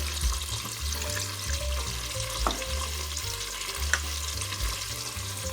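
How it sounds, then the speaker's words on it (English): Carrots, celery, garlic and onion sauté in a pot for beef stew, a steady close sizzle with a few soft clinks and stirring scrapes, and no one talking. "And we're going to let that saute for 5 minutes."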